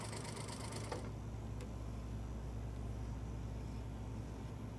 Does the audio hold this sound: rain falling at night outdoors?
no